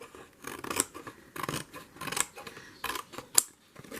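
Scissors snipping along a paper seam during junk journal crafting, a series of crisp cuts with rustling paper between them, close and clear.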